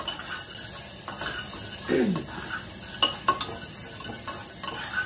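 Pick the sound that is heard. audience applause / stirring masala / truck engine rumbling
stirring masala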